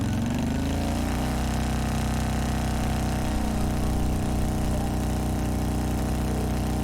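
A motorbike engine in the video game Trails of Cold Steel idles at a steady, continuous hum, with a slight shift in pitch partway through and no speech over it.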